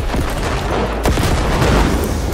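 Gunfire in the video game Cyberpunk 2077, a dense, loud barrage of booming shots blending into continuous noise, with one sharper blast standing out near the middle.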